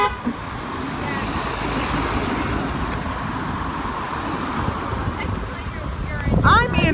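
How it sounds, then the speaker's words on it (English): A car horn toots briefly near the end over a steady outdoor rumble of passing road traffic at a driveway as a storm rolls in, with a person talking close by. "people honking at me"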